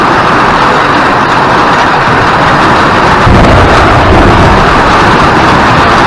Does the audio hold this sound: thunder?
yes